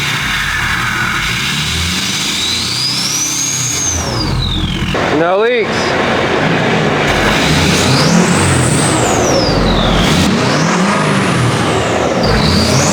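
A Ford Powerstroke 6.7 diesel truck engine runs loud and close, climbing and falling through several rising and falling revs, with a whining pitch, a brief hissing break, and someone speaking briefly.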